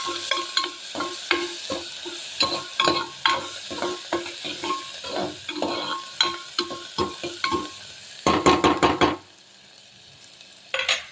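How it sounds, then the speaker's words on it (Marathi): Chopped onion fries in a pan with cumin and mustard seeds for sprouted moth bean curry, a steady sizzle broken by repeated stirring scrapes, then a few sharp clatters of the utensil against the pan near the end. "कांदा चांगला फ्राय करून घेते"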